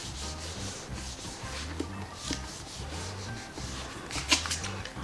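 Paper pressed firmly by hand onto the spine of a mini composition notebook, giving a steady close rubbing and smoothing sound with a few brief scratchy swipes, no talking.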